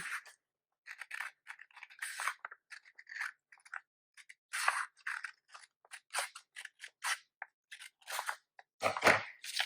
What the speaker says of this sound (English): I'm going to take my scissors and carefully cut all the way up that middle line